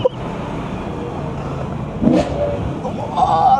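A BMW E9X M3 fitted with an Eventuri intake drones steadily as it drives, the engine note swelling louder in two rises near the end, heard from inside the car.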